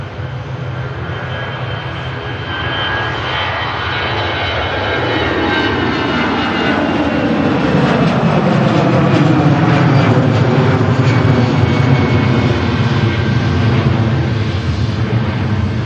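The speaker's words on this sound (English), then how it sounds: "the EasyJet heading to Amsterdam Schiphol now on the roll" An EasyJet airliner bound for Amsterdam Schiphol rolls for takeoff at Manchester Airport, its jet engines a loud, steady roar that builds and broadens over about sixteen seconds, with no one talking.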